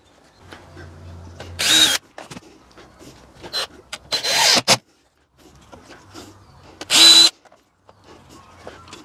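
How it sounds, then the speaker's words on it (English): Power drill driving four screws into a reclaimed timber batten block clamped in place on a pallet-wood shed, heard as several short loud bursts of whirring separated by pauses, with handling knocks and faint talk in between. "I'm just going to quickly screw it in with the 4 screws."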